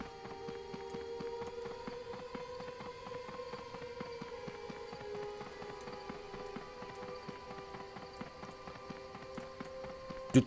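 Horse hooves clip-clop at a steady trotting rhythm in the online role-playing game Uthgard, a continuous run of light, evenly spaced hoofbeats over a soft background hum.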